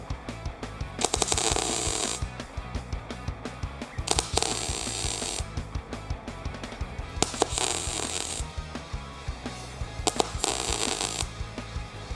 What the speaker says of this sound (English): You try to keep the length of tack, the amount of time you're welding the same.